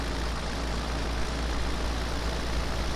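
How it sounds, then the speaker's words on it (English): A tractor engine in Farming Simulator 17 laboring up a hill, a steady low droning rumble that holds constant throughout with no voices. "Come on, tractor, climb that hill."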